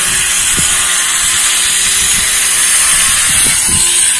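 A steady, loud power saw whine runs throughout while cutting tiles, with faint low thumps and clatter beneath it.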